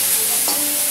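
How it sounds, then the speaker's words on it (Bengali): Cauliflower pieces frying in hot oil over a raised gas flame, a steady sizzle with a quick scrape of stirring midway, close and loud. "গ্যাসের ফ্লেমটা বাড়িয়ে দিয়ে আমি অনবরত নেড়ে যাচ্ছিলাম"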